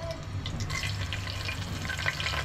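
Whole spices such as cloves and cinnamon frying in oil in a pressure cooker for veg pulao, a close, busy sizzle with crackling pops and light stirring, steady over a short stretch with no voices.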